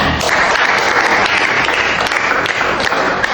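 Applause in a classroom: a dense, loud burst of clapping from pupils that carries on steadily for a few seconds with no talk over it.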